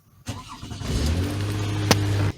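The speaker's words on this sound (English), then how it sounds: "Now we are able to turn on this vehicle in this case." A Toyota Sienna minivan engine cranks briefly and catches, settling into a steady close idle hum with no talking.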